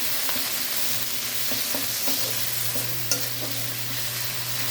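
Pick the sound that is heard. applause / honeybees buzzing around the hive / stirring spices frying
stirring spices frying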